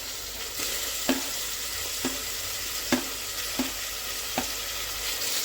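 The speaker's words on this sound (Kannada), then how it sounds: "ಹಾಗೆ ಫ್ರೈ ಮಾಡ್ಕೊಳ್ಳಿ." Sliced tomatoes and lightly browned onions fry in a pan for chicken biryani, a steady close sizzle punctuated by periodic sharp spatula knocks against the pan.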